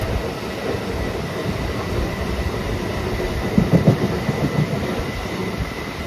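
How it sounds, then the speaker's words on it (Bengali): Inside a moving morning commuter train, a constant close rumble of wheels on rail fills the carriage, with light rhythmic clatter and a brief metallic squeal partway through. "উঠে পড়েছি ট্রেনেতে"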